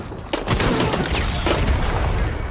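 Gunfire and explosions in the video game Shadow of the Tomb Raider, with a sharp blast followed by rapid bursts of shots and booming impacts, loud and dense throughout with a second heavy burst midway.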